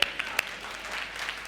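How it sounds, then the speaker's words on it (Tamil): A church congregation at a Sunday service bursts into applause, a dense wash of clapping from a crowd with a few sharper claps up front, brief and moderately loud. "கைத்தட்டு பார்க்கலாம்."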